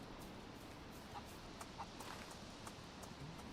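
A chicken in the video game DayZ clucks quietly in short repeated bursts over a soft steady background hiss, faint and somewhat distant, with no talking.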